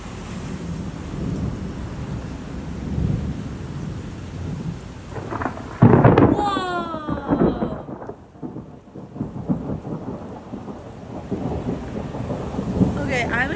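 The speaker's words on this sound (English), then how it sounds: "Where's the thunder?" A thunderstorm with steady rain falling on surfaces and a loud, close crack of thunder that rolls and rumbles away, while a person's voice is briefly heard over the storm.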